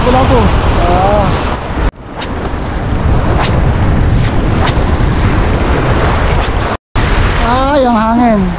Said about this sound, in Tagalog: Ay, ang hangin. May hangin pa din oh, pero hindi ganun kalakas sa dati.